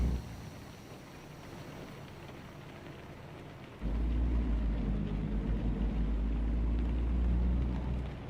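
Rain in the American Truck Simulator video game, a faint steady patter that suddenly swells into a much louder, fuller downpour roar with a low rumble partway through, continuing to the end with no speech.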